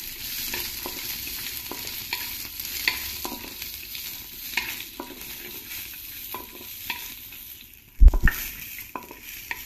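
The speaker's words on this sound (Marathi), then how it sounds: "मंद आचेवर 5-1 मिनिटं परतून घ्यायचं" Green pigeon pea grains sautéing in a pan over low heat with a little ginger, a soft continuous sizzle with light rhythmic scrapes of a stirring spoon and one louder knock near the end, no voices.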